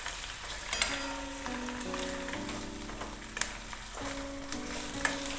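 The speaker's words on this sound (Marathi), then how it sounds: "हे अंडे तेलात जरा खालीवरी करून घ्यायचे" Eggs with homemade red chilli powder and turmeric being turned over in hot oil in a pan, a steady close sizzle with light scraping and tapping of a spatula, no talking.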